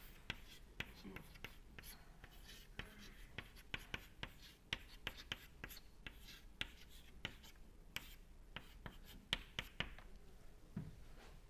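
Faint scratchy strokes of writing on a board during a university lecture on Stokes flow past a sphere, coming in quick irregular bursts of short scrapes with a hushed room behind.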